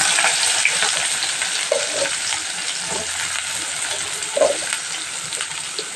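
Onion and garlic fry in hot oil in a pan, a steady close sizzle with occasional stirring scrapes and a few brighter pops.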